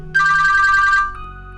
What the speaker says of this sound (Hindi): अरे अफशा, लगता है तुम्हारा भाई फोन कर रहा है।